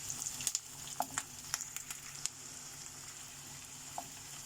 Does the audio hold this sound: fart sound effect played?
no